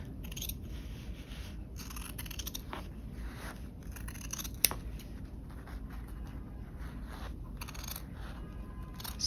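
Scissors snip through the seam allowance of stretched canvas during framing, giving faint, close, irregular cuts over a quiet background with no talk.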